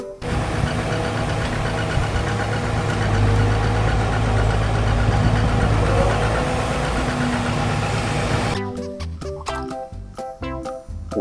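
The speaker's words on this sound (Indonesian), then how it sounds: "Ekskavator penggaruk tanah," An excavator engine runs with a loud, steady low rumble for most of the clip, then breaks into choppy, uneven bursts near the end.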